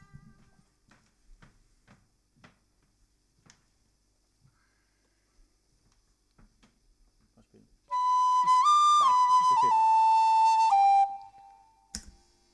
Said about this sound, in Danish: Nu kommer der en rigtig fløjtesang her.